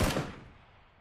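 A single loud gunshot from a competitive shooter video game cracks close up, its echo trailing off over about a second.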